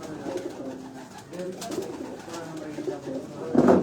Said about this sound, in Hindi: ये प्योरली जो हैं वो सियालकोटी कबूतर हैं